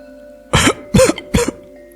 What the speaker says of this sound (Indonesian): Suara batuk ibu bidan mengejutkan mereka